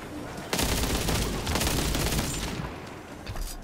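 A World War Heroes video game plays a dense burst of rapid gunfire and explosive booms, loud and close, which eases toward the end of the stretch.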